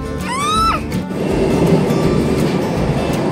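Low, steady rumble of a moving Vande Bharat train heard inside a middle carriage on the Mumbai CSMT to Sainagar Shirdi route, with a brief high squeal early on and continuous rolling noise.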